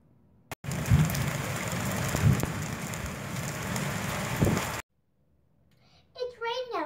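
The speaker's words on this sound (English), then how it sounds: "It's raining outside." Steady rain pours outside for several seconds with a few faint thumps, then stops abruptly; a voice speaks briefly afterward.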